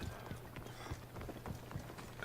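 A horse gallops in Assassin's Creed Odyssey, its hoofbeats landing in a steady rhythmic clip-clop, fairly quiet under a faint game ambience.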